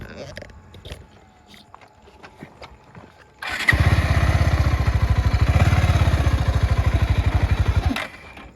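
A motorbike engine fires up after some quiet shuffling and settles into a loud, close, rapid rhythmic idle, running steadily for about four seconds before cutting off abruptly.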